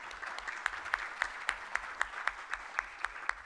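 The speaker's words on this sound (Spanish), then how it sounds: "Le brindamos un fuerte aplauso al doctor Gastón Soto Ballenas." Audience members at a Peruvian congress on electoral studies applaud a speaker, a dry, even crowd applause with a crisp, regular beat of claps running steadily through it.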